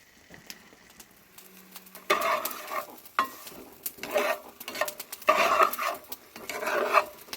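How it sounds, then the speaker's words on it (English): Chorizo stirred in a camping pot outdoors: a scraping, rasping utensil works through sizzling sausage in repeated uneven strokes, close and fairly loud, with brief quiet gaps and light metallic knocks, no voices. "gonna stir that up, put the cover on it, let that cook for a little while"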